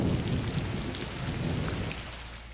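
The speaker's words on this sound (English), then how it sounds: "And the rain comes." Steady rain in the Strategic Command Civil War strategy game, a dense, even hiss that holds constant at moderate loudness throughout and thins only slightly near the end, with no voices over it.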